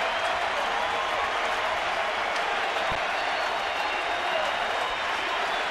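A sellout ballpark crowd roars on its feet at a baseball game, a dense, steady wall of cheering and applause filling the whole span at constant loudness.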